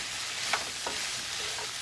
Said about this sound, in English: And you're going to move that around another minute in the skillet.